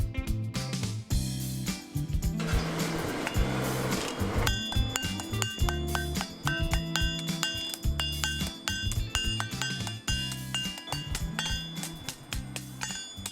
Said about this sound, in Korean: 한쪽에서는 탕탕탕탕 쇠망치 소리가 울려